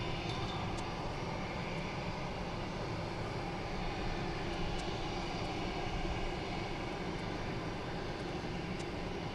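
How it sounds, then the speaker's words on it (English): Airliner performing a go-around at Gatwick Airport, a distant, faint, steady jet roar spread evenly across the whole stretch with no voices. "There has just been a go around here, guys, as well"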